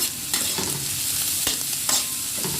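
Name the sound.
sautéing popiah filling in a pan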